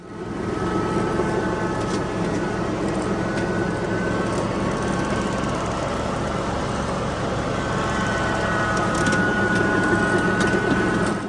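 A Kanicom Masao F1 four-wheel-drive riding mower runs through an apple orchard cutting weeds, its engine drone steady and fairly loud, close by and continuous with no speech.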